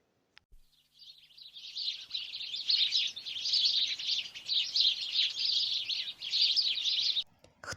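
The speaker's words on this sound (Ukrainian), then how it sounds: "Так говорить горобчик. Цінь цвірінь, цінь цвірінь." A sparrow chirps in quick, bright, continuous bursts for several seconds. The bird sounds fairly close and clear against a quiet background, with no talking.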